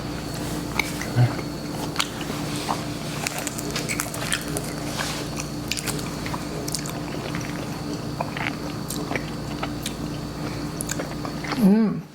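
Homemade sourdough pizza with cheese being bitten and chewed up close, soft crunching and squishy mouth sounds spread over several seconds against low background hum.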